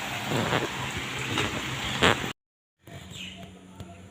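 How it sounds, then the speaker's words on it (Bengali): Steady rain falls outdoors in a broad, even hiss with scattered drop patter, cut by a half-second dropout before resuming more softly. "এরকম বৃষ্টি হচ্ছে"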